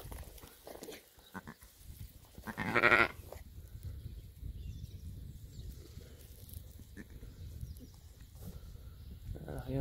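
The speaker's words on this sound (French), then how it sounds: "Ces deux gros agneaux." Two large newborn lambs on a farm, one loud close bleat in the middle and fainter calls around it, over low rustling and background noise.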